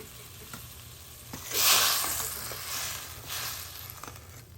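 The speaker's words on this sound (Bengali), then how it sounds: "এবার ঝোলটা দারুণভাবে ফুটে গেছে" Hilsa fish curry broth bubbles and sizzles in a pan, rising in two hissing surges with faint stirring, heard up close without talk.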